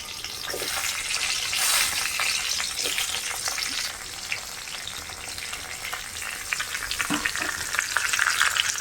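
Steady sizzling and crackling of onions frying in mustard oil with bay leaves and dried red chillies, with occasional stirring scrapes, close and continuous.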